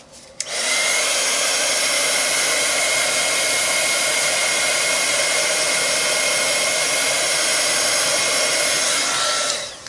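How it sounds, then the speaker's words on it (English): A hair dryer or heat tool blows steadily on a handmade craft project, a loud continuous whoosh that starts abruptly and runs unbroken for nearly ten seconds before cutting off at the end, with no talking. "let's dry this one real quick"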